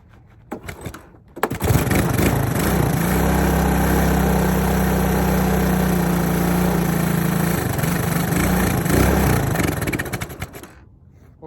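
A Honda ATC 200S three-wheeler engine cranks with a few uneven pops, then catches and runs at a loud, steady idle with a low throbbing drone for several seconds before it is shut off and sputters to a stop.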